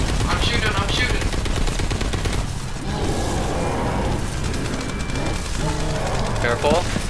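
Rapid bursts of video-game gunfire from Call of Duty: WWII Zombies during a boss fight, with mechanical clatter and rattling volleys, under excited players talking over it throughout.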